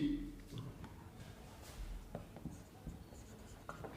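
A math expression handwritten with a pen on paper, quiet scratchy strokes and taps in an irregular rhythm, close and faint.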